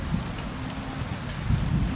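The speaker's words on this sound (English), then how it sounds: "when it rains, like, it literally feels like it's fucking raining." Steady rain falls in the medieval world of Kingdom Come: Deliverance 2, a soft continuous hiss with low rumbles of distant thunder rolling underneath.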